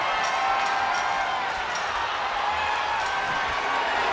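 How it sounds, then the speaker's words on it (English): Steady, dense roar of an arena crowd in the wrestling game WWE 2K23 during a hardcore match, a constant wash of cheering and noise with faint claps poking through, no pauses. "The sound of this crowd is deafening, and he's asking for more."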